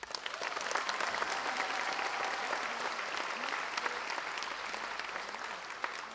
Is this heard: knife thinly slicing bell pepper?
no